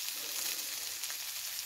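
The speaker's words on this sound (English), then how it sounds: "Oh, listen to that sizzle." Burgers sizzle and fry over a campfire in the rain at a forest camp, a steady close crackling hiss that holds evenly throughout with no talk over it.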